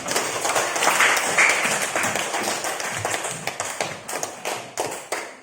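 A classroom audience claps for a student presenter, a dense burst of applause that thins into scattered, separate claps toward the end.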